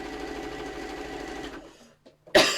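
A sewing machine stitches a quilt block seam along a strip of seam guide tape in a steady, close, rapid hum that runs for about a second and a half before the needle stops, followed by a brief quiet and a sharp clunk.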